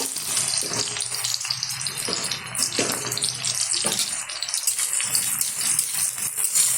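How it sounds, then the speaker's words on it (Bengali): A large chopped onion fries in hot oil in a wok, giving a loud continuous sizzle close up, broken by occasional stirring scrapes. "নেড়ে চেড়ে ভালোভাবে ব্রাউন কালার আসা অবধি এটা ভাজতে হবে"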